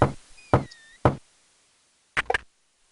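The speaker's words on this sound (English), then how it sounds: "Knock, knock." Knocking on a door in the adventure game King's Quest 6: three sharp separate knocks, a pause, then a quick double knock, close and crisp with silence between, followed by a faint tonal chime.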